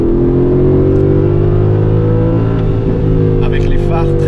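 A 2019 Aston Martin Vantage AMR with a manual gearbox, its engine and exhaust revving loud and close with a steady deep drone, then a rising rasp near the end.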